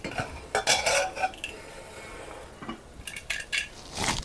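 A metal spoon clinks and scrapes inside a pot while freshly cooked ven pongal is opened and stirred, giving irregular close clatters between quieter pauses.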